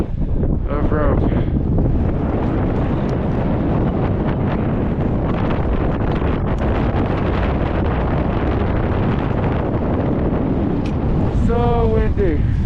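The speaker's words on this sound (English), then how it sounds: "So windy." Strong wind on Ama Dablam near the summit buffets the microphone in a constant roaring rush, with brief voices speaking at the start and end.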